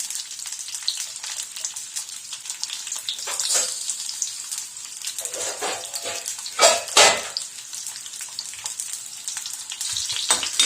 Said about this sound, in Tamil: இதெல்லாம் இப்போ நல்லா வணக்க போகிறோம்